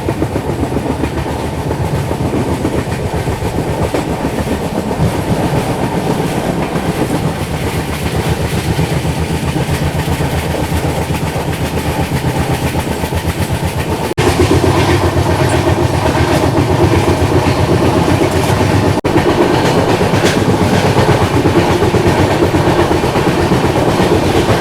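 Mandovi Express train running on the rails from Mumbai to Goa, heard from inside as a steady loud rumble with rhythmic clickety-clack of wheels over rail joints, unbroken throughout with a slight rise partway.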